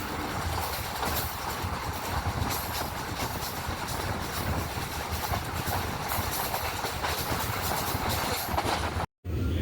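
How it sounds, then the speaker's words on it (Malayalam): An Amritha Express train runs at speed past a station without stopping, a loud, continuous rumble and rattle of wheels and carriages heard from on board, with a brief dropout near the end. "ഇത്ര നേരം നല്ല സ്പീഡിൽ തന്നെയാണ് ട്രെയിൻ പോയത്."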